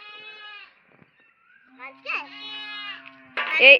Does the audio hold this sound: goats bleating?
yes